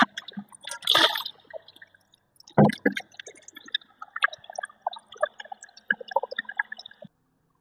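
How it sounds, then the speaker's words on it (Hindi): Water splashes and trickles as a washed plastic air cooler part is rinsed to clear soap: an opening gush, then another pour followed by steady dripping and dribbling, close by with no voices. "अब मैं पानी से अच्छे से इसको वॉश कर लूंगी"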